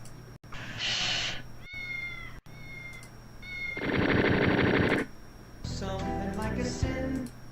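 A house cat meows several times in short bursts, close and fairly loud, with a few longer drawn-out cries between the calls.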